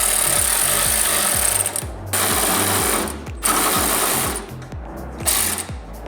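A power tool drives a nut onto a bolt during fabrication work on a drift car's rear end, buzzing in several short bursts with brief pauses between them.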